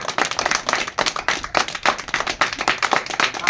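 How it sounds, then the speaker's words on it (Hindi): A group of children claps in quick, uneven bursts, a fairly loud run of hand claps that rises and falls in waves for a few seconds, with no speech over it. "ताली ताली बजाओ"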